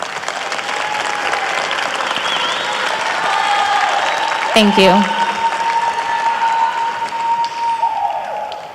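Sustained audience applause at a formal school board meeting honoring student artists and their families, a dense wash of clapping with a brief voice cutting in near the middle.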